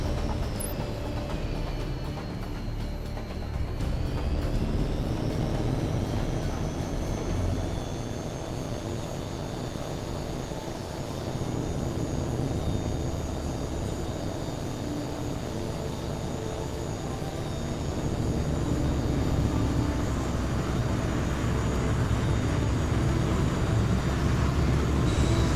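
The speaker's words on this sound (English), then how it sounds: "Clear for takeoff." Fighter jet engine roaring continuously during takeoff in the game HAWX 2, a loud sustained broadband rumble with a rising high whine, steady throughout.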